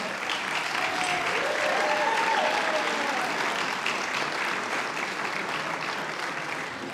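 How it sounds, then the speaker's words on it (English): Audience members at a gala dinner applaud the event's volunteers in a sustained, dense round of clapping that holds steady throughout, with a few faint voices underneath. "Please all stand and clap so that we can recognize you."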